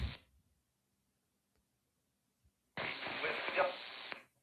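A burst of harsh radio static crackles in loudly from a Flex 8600 radio receiver after a stretch of near silence, holding steady for over a second before cutting off.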